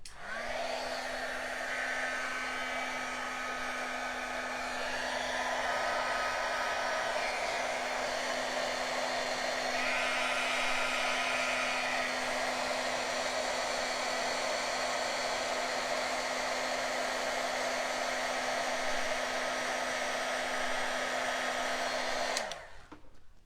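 A heat gun for craft embossing blows hot air in one long, steady whirring roar with a constant hum, close and continuous for about twenty seconds before switching off abruptly at the end.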